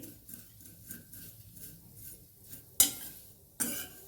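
Vermicelli roasts in ghee while being stirred, a quiet, faint scraping and rustling, then two sharp metallic clinks of the spoon against the pan near the end.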